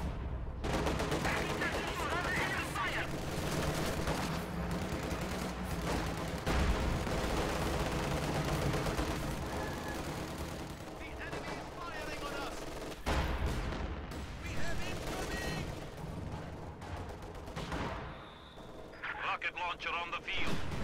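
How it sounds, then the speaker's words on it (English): High-explosive artillery barrage in a strategy war game, with booming impacts and scattered gunfire rolling continuously under a commentator's voice for about twenty seconds. "High explosive barrage going off on the machine gun there"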